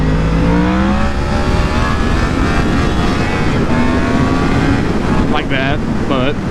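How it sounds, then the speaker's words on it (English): Motorcycle engine revving loudly and continuously during a wheelie ride, with rising and falling pitch sweeps and steady wind buffeting across the whole stretch, close and prominent. "everybody can just ride around, ride a few wheelies"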